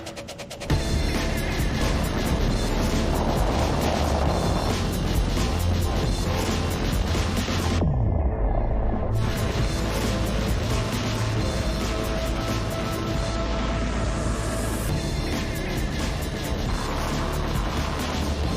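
SpaceX Starship Flight 3 launches with a loud, sustained, broadband rocket roar. The roar dips out briefly midway, then returns and rumbles on, crackling and distant-sounding, with no voices.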